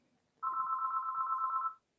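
A telephone rings during a board meeting, one sustained electronic ring a little over a second long, loud and clear in an otherwise quiet room.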